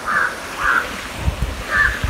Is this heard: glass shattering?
no